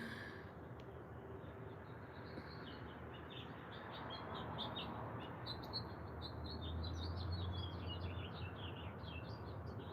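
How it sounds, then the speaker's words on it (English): Birds chirp and squabble outdoors in a continuous scatter of high tweets over a steady background hum, moderately distant and never loud. "outside with the birds that sound like they're up to something"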